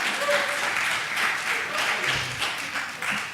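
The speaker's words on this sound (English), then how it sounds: "we get excited and you applaud" Audience applause fills a lecture hall, steady and moderately loud for a few seconds, mixed with a murmur of voices rather than sharp individual claps.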